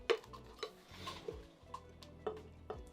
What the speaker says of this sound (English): So just mix that with some hot water.